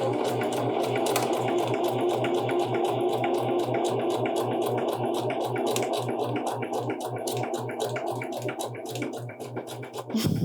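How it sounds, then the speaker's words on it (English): A sewing machine stitches two small buttonholes on a pair of Lane Pants, running steadily and close with a fast, even mechanical patter and hum that keeps going without a break, slowing slightly near the end. "I'm just going to do my two little buttonholes"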